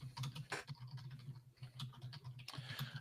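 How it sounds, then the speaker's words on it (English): Someone types a query on a computer keyboard, quick irregular clatters of keystrokes in short bursts, close and fairly quiet against a faint steady hum. "the riveting audio of Mike typing in the query"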